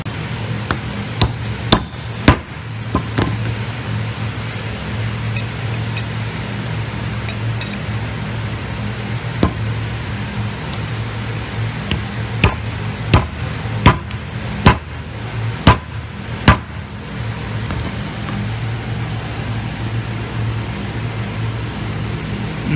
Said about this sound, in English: Now we just gotta use a hammer to tap it all together.